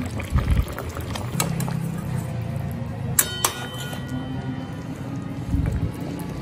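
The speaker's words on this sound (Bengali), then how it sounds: "এবার সব শেষে আমি বেটে রাখা গরম মশলা একটু জল দিয়ে গুলে দিয়ে দিলাম।" Garam masala mixed with water is poured into a simmering katla fish curry, producing a short liquid splash over soft bubbling, with a few light clinks of utensils.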